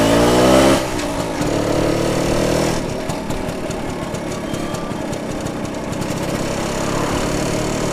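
1967 BSA Bantam 175 D10 motorcycle on a test ride, its small single-cylinder engine revving up then settling into a steady loud buzzing drone close by, with wind rumble.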